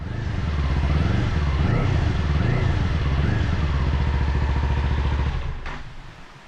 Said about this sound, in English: So if we play back the original muffler,